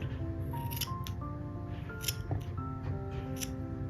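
Scissors snip close up through the loose ends of crochet thread, giving several quick, crisp cuts in an uneven rhythm over a few seconds, quiet against a faint background hum.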